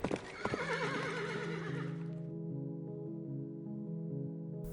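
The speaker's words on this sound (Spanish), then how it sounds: "únicamente resonaba el galope de sus caballos, que se perdían en la noche" Horses neigh in a loud, shrill whinny that fades into a sustained ringing tone, with hooves clip-clopping underneath, heard alone without voices.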